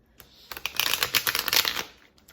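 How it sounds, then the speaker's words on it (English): Tarot cards are riffle-shuffled up close in a quick burst of crisp, rapid flutter and slaps lasting about two seconds, with no talking. "I'm just going to shuffle them again to get a really good reading for you guys"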